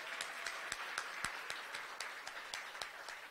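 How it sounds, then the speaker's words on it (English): Light, sparse clapping from an evening event audience, individual claps distinct and irregular, several hands at close range, with no talking over it. "Give yourselves a round of applause for being here tonight."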